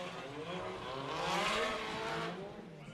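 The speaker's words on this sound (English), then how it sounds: "You can hear the car revving, but not really kicking out sideways." A drift car's engine revs hard at turn 1 of a knockout drift battle, a loud sustained mechanical roar that swells in the middle and then eases, with crowd and track noise mixed in.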